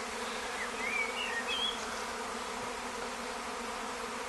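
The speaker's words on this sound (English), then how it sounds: "They're flying and buzzing around." A honey bee swarm buzzes over an apiary with spare hives, a dense continuous hum of many insects in flight, steady and fairly loud with occasional individual bees whining past closer.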